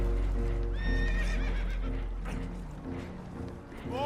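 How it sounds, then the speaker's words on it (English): Spooked horses whinny and neigh in a Red Dead Redemption 2 scene, shrill rising calls repeating over a steady low rumble with clopping hooves, loud and close. "Horses are spooked"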